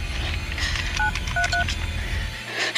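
Touch-tone telephone keypad beeps as a 911 emergency number is dialed, a few short clear dual-tone presses in a quick irregular rhythm over a low background hum.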